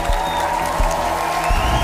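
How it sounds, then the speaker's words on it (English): An audience at the Mister Supranational 2025 pageant final gives the departing candidates a sustained round of applause, a dense, steady wash of clapping and crowd noise with a few low thumps beneath it. "let's give them a big round of applause"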